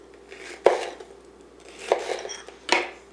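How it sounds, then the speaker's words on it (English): A knife slices fresh jalapenos on a cutting board, three distinct sharp cuts spaced about a second apart, each a crisp close thunk against a quiet background. "I'm going to take some jalapenos, and I'm going to thinly slice them"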